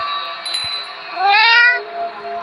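A cat meows inside a horror video game, a single rising, drawn-out call set over steady game background tones, fairly close and clear.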